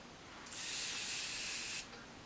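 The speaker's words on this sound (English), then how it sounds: "Last but not least, I'm going to use some baking spray." A single continuous hiss of makeup baking spray lasts just over a second, close and fairly quiet, alone without talk.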